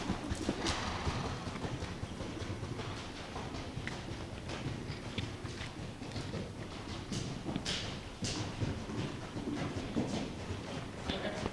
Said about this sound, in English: Go ahead and make him canter at the gate.